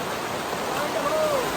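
Heavy outdoor rain pours in a brief steady hiss, with a faint tonal sound rising through the middle.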